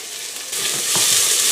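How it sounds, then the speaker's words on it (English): Garlic and onions sizzle loudly in a hot pan, the frying hiss swelling stronger after a moment. "I'm going to stick the garlic and the onions. Listen to that sizzle."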